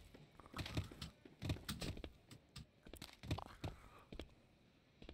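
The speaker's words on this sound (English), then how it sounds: "Right clicking." A computer mouse is right-clicked during play of the game Deducto. The clicks are quiet, close and crisp, arriving as several irregular clusters over a few seconds with nothing else around them.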